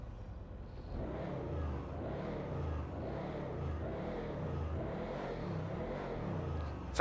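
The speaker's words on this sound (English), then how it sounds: "Let's get some revs." Annis Hellion truck in GTA V revving repeatedly, a steady series of rising and falling engine surges at moderate loudness, heard alone with no talk.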